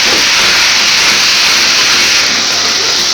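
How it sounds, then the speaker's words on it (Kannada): Vegetable fried rice with peas and spring onions is stir-fried over a high flame, giving a loud, continuous sizzling hiss that stays steady and close throughout, with no voices. "ಚೆನ್ನಾಗಿ ಕಲ್ಸ್ಕೊಳ್ಳಿ ಜೋರು ಉರಿಯಲ್ಲಿ"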